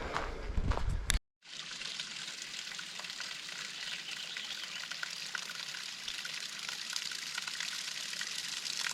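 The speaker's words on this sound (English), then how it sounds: "First water of the day." A stream of water runs beside a hiking trail on Mt San Jacinto, a soft, steady rushing hiss that stays faint and even throughout after a brief break near the start.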